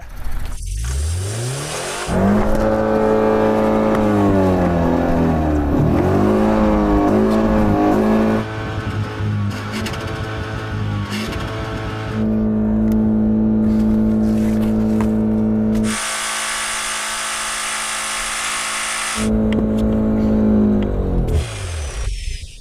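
A BMW car engine in an endurance test revs hard and loud, its pitch climbing and falling through repeated high sustained bursts with short drops between, for over twenty seconds with no talk.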